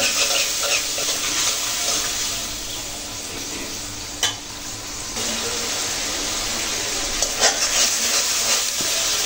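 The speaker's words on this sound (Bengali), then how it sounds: "মশলাগুলো ভালো করে কষে নেব" Spices stir-fried with a little water in a pan for a fish curry with tomato, potato and carrot, a steady soft sizzle with occasional scraping stirs throughout.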